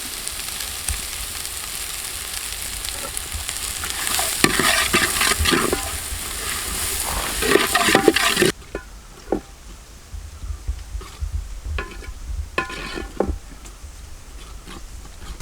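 Onions sautéing with salt in a pan, a dense continuous sizzle with stirring scrapes that drops suddenly to a quieter hiss with scattered clicks of the spoon.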